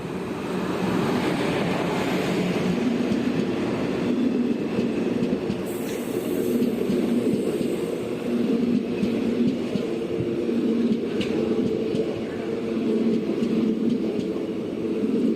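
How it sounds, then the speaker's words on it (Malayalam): The Guruvayur Madurai Express pulls out of Chalakudy railway station, a steady loud rumble of rolling carriages and wheels on rail heard close, continuous throughout with faint squeals and clatter. "ഗുരുവായൂർ മധുര എക്സ്പ്രസ് അങ്ങനെ ചാലക്കുടി റെയിൽവേ സ്റ്റേഷനിൽ നിന്ന് പുറപ്പെട്ടു കേട്ടോ."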